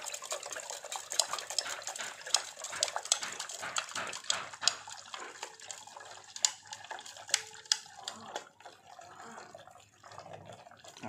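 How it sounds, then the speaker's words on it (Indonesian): Liquid being stirred after urea is added to copper waste, faint sloshing and small splashing drips with scattered clinking taps against the container, quiet and uneven throughout. "pertama kita kasih urea dulu ya, supaya kalau ada nitrit yang berlebihan bisa dinetralkan ya. Oke, yuk kita aduk."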